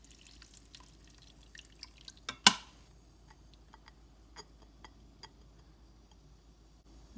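Gochujang sauce goes from a container into an Instant Pot of braised fish: a brief splash followed by sparse, scattered drips and small ticks in an otherwise quiet kitchen.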